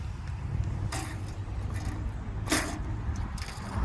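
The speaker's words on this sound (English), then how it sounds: "Flopping around this cheap tape." A flimsy, cheap metal measuring tape is handled, giving a few brief rattling clinks at irregular intervals over a low, steady background rumble.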